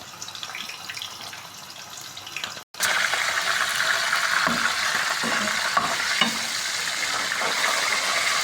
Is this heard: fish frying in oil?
yes